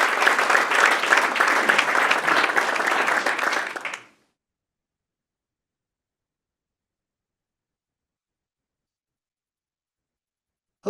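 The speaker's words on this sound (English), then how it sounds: "One more round of applause for Rob." An audience at a startup software cohort showcase gives a warm round of applause for a presenter, with steady clapping for about four seconds before it cuts off abruptly into silence.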